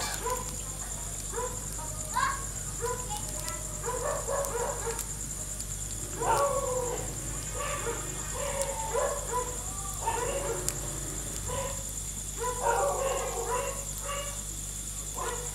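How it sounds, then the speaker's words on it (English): Dogs in the jungle at night bark and yip in scattered bursts at a distance, some whimpering cries mixed in, over a quiet outdoor hum. "I got the dogs going again."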